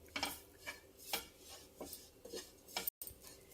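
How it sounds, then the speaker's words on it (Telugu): Roasted seeds being stirred in a cooking pan with a utensil, giving a series of irregular metallic scrapes and taps, close and moderately quiet, with no talking. "ఆ గింజలు కూడా వేసి కొంచెం ఇలా కలిపేసుకుంటే"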